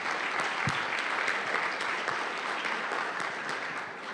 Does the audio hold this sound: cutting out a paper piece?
no